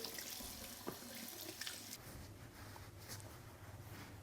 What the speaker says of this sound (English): I'm just gonna run some water over it